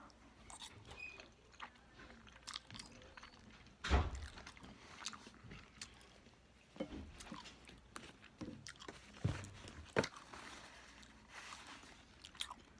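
Spaghetti with mayonnaise being eaten close to the mic, with quiet, soft chewing and occasional louder crunchy or squishy bites over a low background.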